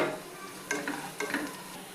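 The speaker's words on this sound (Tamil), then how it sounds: "வெங்காயம் நல்லா வறுபடட்டுங்க" Onions and curry leaves fry in oil in a pan, giving a steady close sizzle throughout. A spoon stirs the pan several times, adding brief scraping pulses on top of the sizzle.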